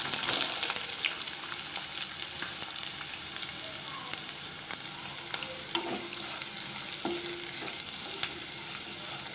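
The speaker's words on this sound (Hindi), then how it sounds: "सॉटे कर लेते हैं।" Whole spices and onion sauté in a hot pan for Kadam chicken, giving a steady, close sizzle and hiss with faint stirring clicks and no talking.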